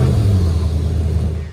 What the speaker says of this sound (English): Grizzling, gritty engine noises,